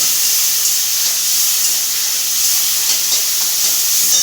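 Spices, green chilli, cumin and tomato fry in hot oil in a pan for a fish curry, producing a loud, continuous close-up sizzle and hiss with no talking.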